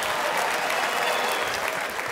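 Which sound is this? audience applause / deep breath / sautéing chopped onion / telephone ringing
audience applause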